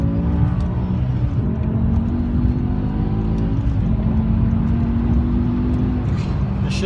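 A supercharged BMW M6 engine drones steadily at low revs while driving, a constant loud cabin rumble with a faint rising whine and no clear peaks throughout.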